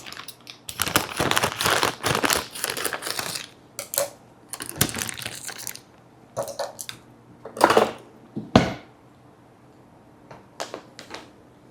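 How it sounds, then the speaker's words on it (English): Frozen vegetables from a 16-ounce bag tumble into a pot in bursts of crinkly rattling and pattering clatter, with quiet pauses and a few louder bag rustles near the end. "I'm just going to put the whole bag in there."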